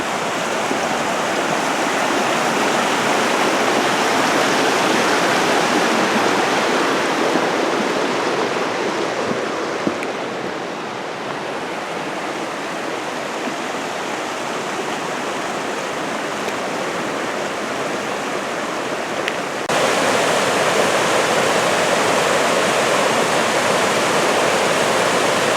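Talapus Creek rushes steadily beneath a hiking bridge, a loud, continuous broadband roar of flowing water with no pauses, close to the listener and without any talking.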